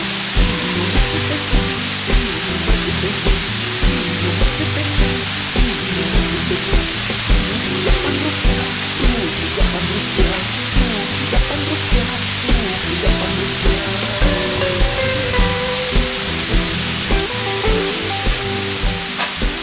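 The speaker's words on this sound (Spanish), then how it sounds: "La cascada se llama Chinintuna." Chinintuna waterfall in the Amazon, home to large swallows, roars as a loud, steady broadband rush of falling water, constant and close throughout with no voices.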